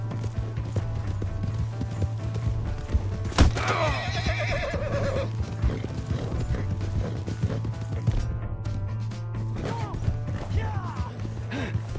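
A horse in Red Dead Redemption 2 whinnies loudly with a descending neigh amid clip-clopping hooves, over a steady low game hum and background shouting.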